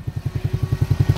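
An autonomous tractor drives past while planting corn, its engine chugging in a steady rhythm of low, even thumps, close by and moderately loud, with no voices.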